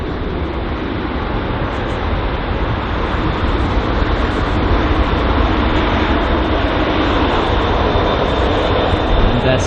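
Steady, broad jet roar of an Aer Lingus Airbus A320 departing runway 27 left at London Heathrow, a continuous distant rumble holding level for the whole stretch with no pauses.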